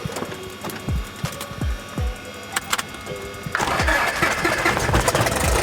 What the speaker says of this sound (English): Once you turn it, your airplane and props gonna start cranking.